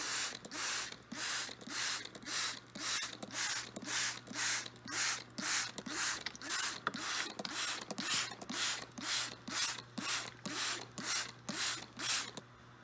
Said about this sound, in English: So we have our spray bottle